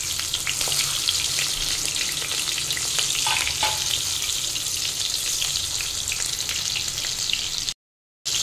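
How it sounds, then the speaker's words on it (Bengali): Pointed gourd (potol) pieces frying in hot oil for a vegetarian dudh potol dish, a steady, close, dense sizzle that continues evenly and cuts out briefly near the end. "এবার আমি এটাকে একটু ভালো করে ভেজে নেব।"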